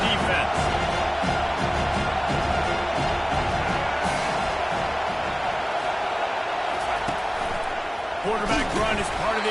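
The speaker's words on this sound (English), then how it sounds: "Listen to this crowd just shaking the girders of this place" A packed football stadium crowd roars continuously and loudly, a dense sustained wall of noise with a commentator talking over it.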